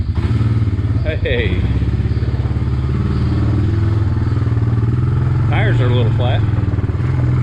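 Honda Fourtrax 300 ATV engine idling and running in gear, a steady low throbbing putter up close, with people talking briefly over it.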